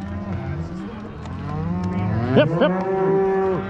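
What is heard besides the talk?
cattle mooing during a Montana ranch cattle drive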